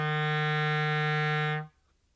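A clarinet holds a low F played with the pinky key as one steady, rich tone for about one and a half seconds, then stops cleanly.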